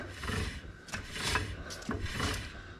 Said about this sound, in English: You can just hear the pads scraping inside the drum there.